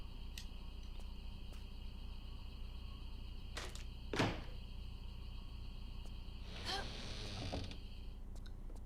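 A door opening in the Tomb Raider level editor game Fading Light 2, heard as a soft scraping slide with a sharp clack partway through, then a longer grinding rumble, all over steady ambient music.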